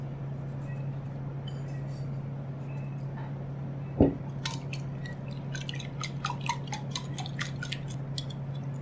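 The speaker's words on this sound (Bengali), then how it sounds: "এর মধ্যে ডিমটাকে ফেটে নেব" An egg is beaten in a bowl: a single knock, then a run of light, irregular glassy clicks of utensil against bowl, close and fairly soft over a steady low hum, with no talk.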